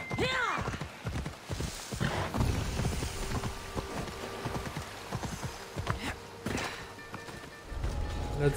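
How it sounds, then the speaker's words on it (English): Rhythmic clip-clop of horse hooves trotting steadily, moderately close, with a brief whinny near the start and some wind in the background, in the video game Assassin's Creed Odyssey. "Yeah, that's my horse."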